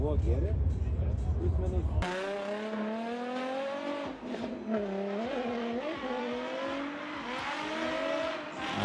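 A race car pulls onto the Riga track, its engine revving loudly in rising and falling sweeps after an abrupt start, close and continuous.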